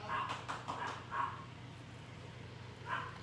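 Dogs bark outside, a few muffled, distant yips in a short cluster, then one more after a pause, over a low indoor hum.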